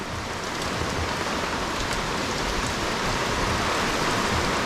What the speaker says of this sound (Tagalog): Ayan nga, lakas ng ulan.